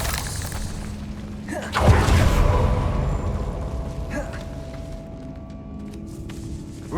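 A Bombarda blasting spell in Hogwarts Legacy, cast inside a decaying catacomb, goes off as one sudden heavy boom with a shattering crackle that fades into a rumbling tail over low ambient drone.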